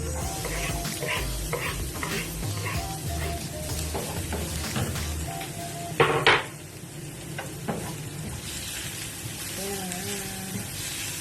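Onions fry in a pan with a steady sizzle while a utensil stirs and scrapes, with clinks and a sharp clatter midway, close by, and a voice speaks briefly alongside.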